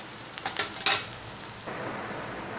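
Onion and chili frying in oil for a Malvani dill greens dish, a steady close sizzle with a few louder scraping stirs of a spatula against the pan near the start.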